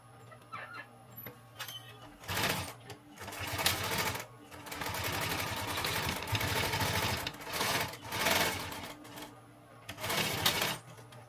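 A sewing machine runs a seam on a simple homemade backpack pouch in several bursts of close, rapid stitching with pauses in between, and short clicks and handling noises in the gaps.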